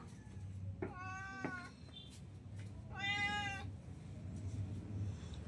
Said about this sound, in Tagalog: Ngiyaw ka pa ng ngiyaw.